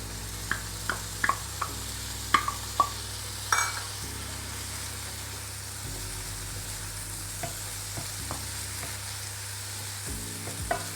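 Garlic fries in a pan with a continuous soft sizzle, while a utensil gives scattered light taps and scrapes, busier at first and sparser later.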